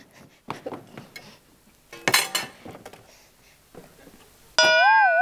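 Metal cookware clanks and scrapes as a griddle pan is moved off a gas stove, with one sharp clang in the middle and a warbling electronic tone cutting in at the end.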